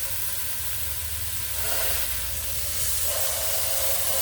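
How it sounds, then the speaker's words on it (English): A roast searing in a hot pan gives off a steady, close hiss and sizzle that swells slightly partway through, with no talking. "Okay, so it's searing a little bit."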